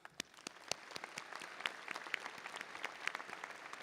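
An audience at a University of North Texas spring commencement ceremony claps in a steady round of applause, the sound of many hands picking up and holding, heard from a distance in a large hall.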